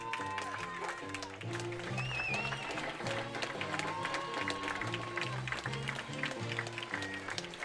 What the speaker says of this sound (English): he's going to get a big-time hand when he does